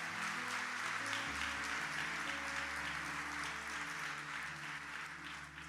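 Church congregation applauding together, a sustained wash of clapping hands from a crowd that holds steady for several seconds and tapers slightly at the end, with low music droning underneath.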